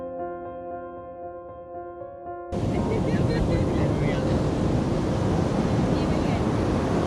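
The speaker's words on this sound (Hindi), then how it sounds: "फिर इन लहरों ने भी हमारे थोड़े मजे ले लिए।" Ocean waves at Candolim Beach in Goa, heard as a sudden loud roaring wash of surf with heavy wind buffeting the microphone, following a few seconds of quieter tonal sound.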